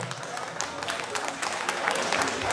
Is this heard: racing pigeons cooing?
no